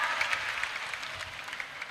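Applause from an audience inside Masjid At-Taqwa mosque, a steady dense patter of many hands clapping at moderate distance, holding evenly without pause.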